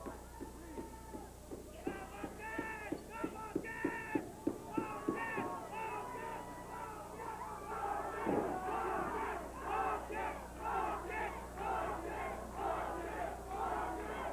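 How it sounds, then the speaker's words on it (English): A wrestling arena crowd at a 1989 Stampede Wrestling event cheers and chants, first in rhythmic clapping bursts, then a rising continuous roar of many voices, heard from a distance. "There's a lot of people cheering for Vulcan."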